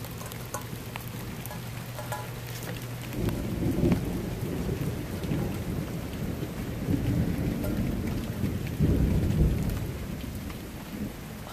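A thunderstorm over a yard brings steady heavy rain with rolling low thunder that swells and fades in several long rumbles, with no voices.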